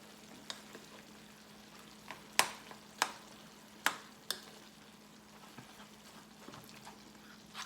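Chorizo frying in a pan, a quiet steady sizzle under sharp spoon clicks against the pan as it is stirred, the clicks coming in a short irregular burst in the middle, close and without talk.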